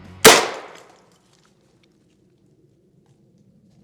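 AK rifle-mounted tear-gas grenade launcher firing once, a single sharp, loud report with a brief decaying tail outdoors, followed by near silence.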